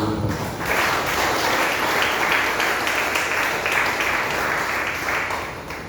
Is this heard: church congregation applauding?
yes